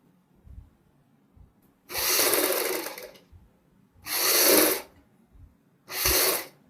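A sewing machine stitches a patch onto a child's fancy dress, running in three separate loud bursts of a second or so each, with quiet pauses between them.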